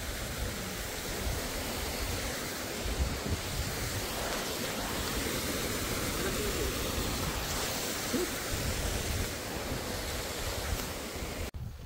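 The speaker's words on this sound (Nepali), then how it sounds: "बवाल हावा लागिरहेछ" Strong wind roars through a forest on a trek from Padmi to Hukam, a loud, continuous rushing noise with gusty swells, close and unbroken, with no voices.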